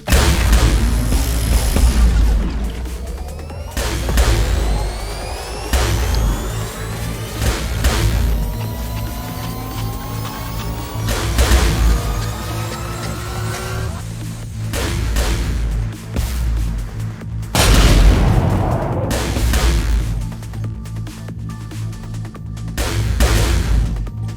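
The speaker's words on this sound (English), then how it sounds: "this is going to be an experience where I do kind of showcase the burst fire mode" Burst-fire weapon shots boom in the space game Trigon amid space combat effects. Heavy blasts and sweeping whooshes repeat in clusters over a continuous loud game soundscape.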